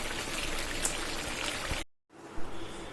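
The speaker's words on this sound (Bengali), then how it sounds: "এবার একটু পানি দিয়ে দিব।" Water is poured into a pan of fish and papaya curry, making a steady, close splashing rush for nearly two seconds. It stops abruptly, then a quieter simmer follows.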